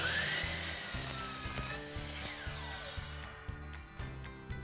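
Power saw fitted with a light cutting through a wooden board, a steady close whine with rhythmic pulsing as the blade works through the wood, no talk.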